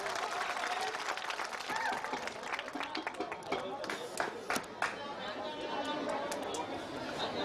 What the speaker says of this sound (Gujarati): તાળી પાડો મારા વાળા જોરદાર